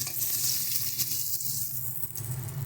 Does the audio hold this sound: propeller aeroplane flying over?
no